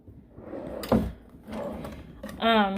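A drawer holding eyeshadow palettes slides and bumps shut in a makeup storage setup, giving a short thud and rattle, followed by a scraping slide near the end. Someone talks nearby throughout.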